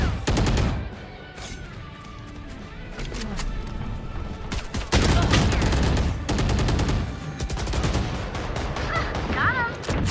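Loud video game battle sounds in which a grenade blast and bursts of gunfire sweep through dense, clattering combat noise, with a voice briefly calling out over the action.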